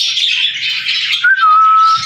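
Birds chirp and twitter in a dense, high-pitched chatter, close by, with a clear sustained whistle cutting through near the end.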